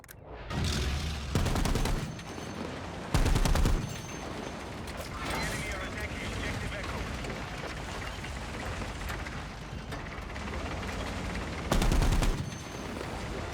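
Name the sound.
anti-aircraft gun firing in a video game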